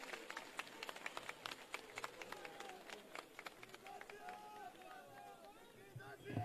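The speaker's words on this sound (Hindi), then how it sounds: "सभा को जोरदार ताली बजाइए" Audience at a political rally clap in a burst of sharp, scattered handclaps that thin out toward the end, with crowd murmur and voices underneath.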